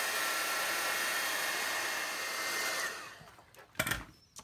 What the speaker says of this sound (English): I'll hit this with the heat gun again